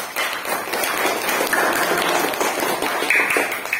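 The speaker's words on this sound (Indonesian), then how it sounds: "Tepuk tangan untuk kelompok 2" Group 2 of a classroom discussion session gets a round of clapping from classmates, a dense, steady patter of many hands for several seconds, fairly close, with some voices mixed in.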